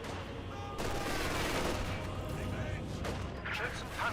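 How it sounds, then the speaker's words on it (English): Mortar shells from a half-track strike infantry squads in Company of Heroes 2, dull blasts within dense, continuous battlefield gunfire, with a commentator speaking over the din. "Next mortar hits, going to strike the conscripts relatively"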